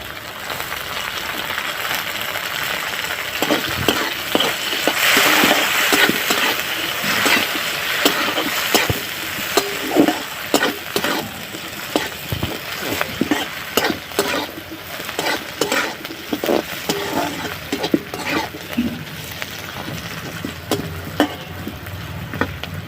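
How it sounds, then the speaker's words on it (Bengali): Chopped onion fries with bitter gourd and jackfruit seeds in a pan, a continuous close sizzle broken by frequent scraping clicks of a spatula stirring, with no voices. "এবারে দেবো আমি পেঁয়াজ কুচি, কুচানো পেঁয়াজ"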